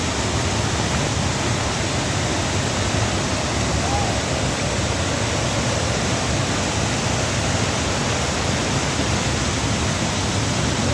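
Floodwater at Narikund after days of rain, a dense, steady roar of rushing water that holds unchanged at high level throughout with no breaks.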